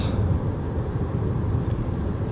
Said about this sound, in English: Now you do get a little bit of tyre roar coming into the cabin.